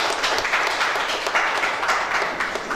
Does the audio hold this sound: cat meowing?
no